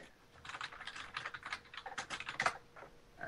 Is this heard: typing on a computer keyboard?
yes